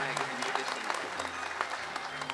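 Applause from the audience at a live singing show in Ahmedabad, dense clapping sustained through the whole moment with a low hum and some voices underneath.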